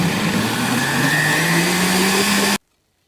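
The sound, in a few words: blender on maximum mixing soy milk for tofu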